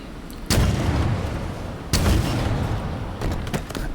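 Rocket launcher fire in Halo Infinite's Mission 02, Foundation, three heavy booming blasts a second or more apart, loud and close, each trailing off into a rumbling roar.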